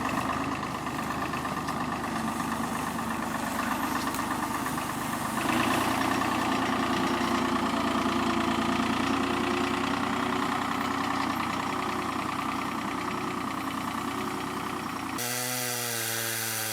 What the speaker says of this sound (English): Simply attach the log to the tractor with a log chain and begin hauling it over